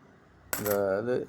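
A few coins drop and clink together in a short metallic jingle, starting abruptly after a moment of near silence and ringing close by.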